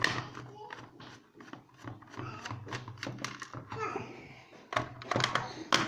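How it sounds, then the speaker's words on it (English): A small child babbles somewhere in the background, mixed with light clicks and knocks from handling an HK 416 airsoft gearbox. "Sounds like I've got a small child on the way"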